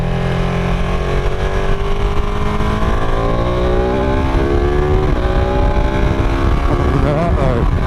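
A 2017 Ducati 959 Panigale sport motorcycle under way, its engine revving loud and close with rising and falling pitch as it accelerates through gears, wind and road noise mixed in, with some speech.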